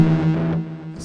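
A short burst of distorted electric guitar through the new distortion effect on an HX Stomp Helix 2.90 rings out harmonically and decays within a second.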